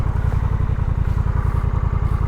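A 2023 Honda Rebel 1100 T motorcycle engine idles close by, its exhaust thumping in a fast, even, throaty rhythm throughout.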